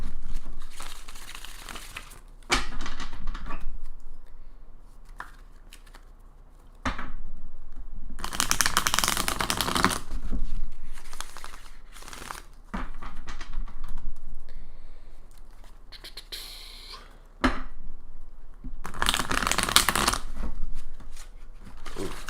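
Tarot cards being shuffled by hand, bursts of riffling and flicking that come and go in several bouts, loud and close, separated by quieter pauses.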